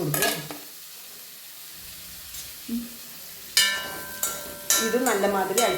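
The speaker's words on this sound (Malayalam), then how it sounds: "ഇത് നല്ല മാതിരി ഇളക്കി" Ingredients stirred and sizzling in a frying pan, with sharp scrapes and clatters of a spoon against the pan coming in bursts over a steady hiss, quiet at first and busier toward the end.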